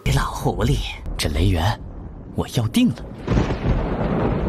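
Thunder rumbles from a silver crystal thunder beast in the animated series Martial Universe, a broad roaring swell that builds loudly near the end after stretches where a voice talks over the scene.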